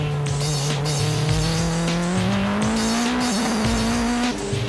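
An Esso Supra race car running on worn tires with almost no grip: a loud, close engine drone holding a steady pitch, with faint tire noise and shifts in tone near the end.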